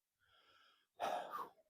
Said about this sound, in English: excuse the heavy breathing. This is a very steep hill